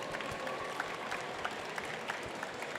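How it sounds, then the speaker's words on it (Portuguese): An audience applauds staff members during a corporate business talk, a fairly quiet, steady patter of many hands clapping throughout with no voices over it. "queria até puxar uma salva de palmas para as nossas pessoas que estão aqui presentes hoje"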